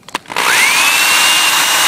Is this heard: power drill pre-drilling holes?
yes